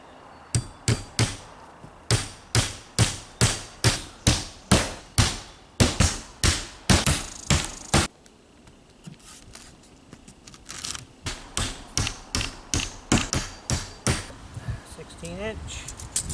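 Hammer blows drive nails through metal roofing into wooden roof rafters, a steady run of sharp, loud strikes about twice a second, pausing briefly before another series of quicker, lighter taps.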